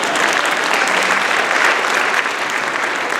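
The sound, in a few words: audience clapping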